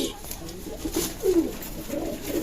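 Pakistani Teddy pigeons cooing in a home breeding loft, several soft, throaty low coos repeating close by over a faint background hum.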